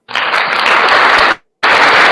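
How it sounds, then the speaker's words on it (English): A short burst of applause, a dense patter of clapping that cuts off abruptly, falls silent for a moment, then resumes just as loud. "I give you some applause"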